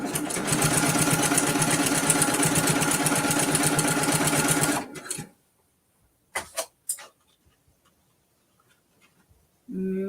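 Sewing machine stitching a mini quilt in a fast, continuous whir for about five seconds, then stopping, followed by a few soft handling clicks and near silence.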